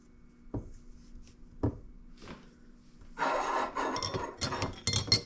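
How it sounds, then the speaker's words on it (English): Metal lock collar on a TDMi coilover spun by hand up to the spring perch: a few sharp isolated taps, then a close, continuous scraping and rasping rattle of threads turning. "spin your lock collar up to the bottom spring perch"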